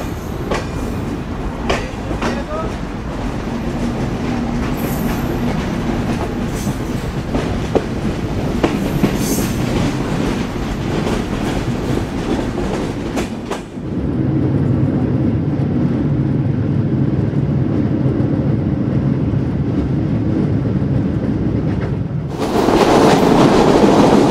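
The Chitra Express rumbles along the line from Khulna to Dhaka, a continuous rolling clatter of wheels on rail heard from on board, with a sudden shift in tone partway through and a rising rush near the end.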